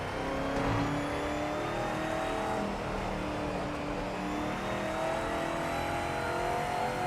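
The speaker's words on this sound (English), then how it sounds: "Yeah, it's a Cadillac. It does sound very American-y. That deep sort of growl to it." A Cadillac's deep, throaty engine growl in the PC racing game PMR, running steadily and continuously at moderate level with slight revving swells, no talking over it.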